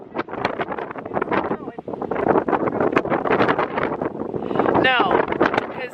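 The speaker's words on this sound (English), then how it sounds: "The wind just picked up." Strong gusts buffet the microphone in a continuous rumbling roar, with people talking throughout.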